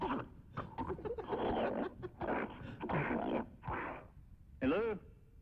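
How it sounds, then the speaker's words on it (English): Pet dog Teeny makes choppy, cooing and yelping noises heard over a phone line, in irregular bursts with a rising whine near the end. "Was that really your dog? Yeah, it's Teeny. Making those sounds?"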